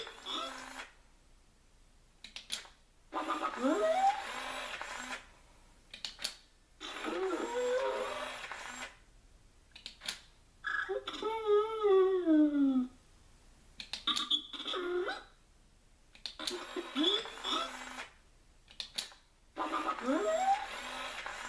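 An interactive Disney Store BB-8 Star Wars droid toy whirs in bursts of motor noise as it rolls and spins its wheel, broken by short pauses, with a burst of warbling electronic chirps in the middle.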